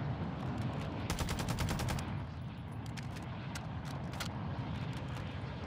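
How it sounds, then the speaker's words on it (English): Gunfire in the Call of Duty DMZ video game, with bursts of rapid shots over a steady noisy background and no talk over it. "My shots are literally going right through him, bro!"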